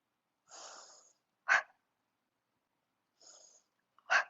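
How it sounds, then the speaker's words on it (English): Soft breathy exhales alternate with short sharp nasal sniffs during a lying back decompression stretch, two slow out-breaths each followed by a quick intake, close and quiet with silence between. "Give yourself one more exhale."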